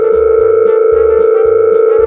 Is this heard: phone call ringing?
yes